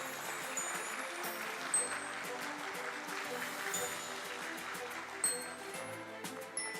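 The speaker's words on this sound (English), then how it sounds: "This is our cue for a huge round of applause." Applause at a Bombay Stock Exchange listing ceremony for Omnitech Engineering Limited, heard as steady, dense clapping from a crowd that carries on for several seconds, with a few louder claps rising above the rest.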